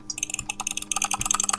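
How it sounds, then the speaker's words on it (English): Very fast jitter-clicking on a computer mouse, a dense stream of sharp, rapid clicks at close range with no talk. "Hear how fast this rubbish clicking."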